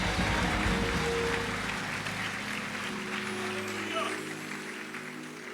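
A church congregation applauds during an evening service, producing a broad sustained wash of clapping that thins out while a voice speaks over it through the hall's sound system.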